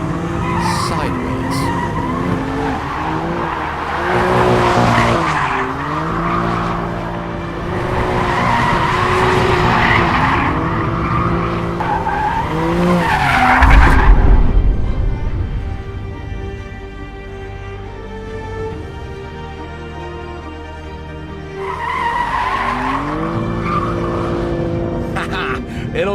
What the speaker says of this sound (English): if you want a 4-seat compact car that will do big skids like that, this is one of the only choices.